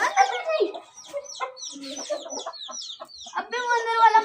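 Roosters and hens in a village coop cluck and squawk in busy, overlapping bursts close by, with chirpy calls scattered throughout and a voice talking briefly among them.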